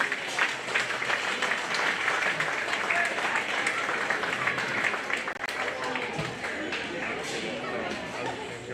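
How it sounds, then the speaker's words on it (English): A crowd at a county fair applauds steadily for several seconds as children exit, clapping dense and fairly close, with some voices mixed in. "Big round of applause for those kiddos as they exit, please."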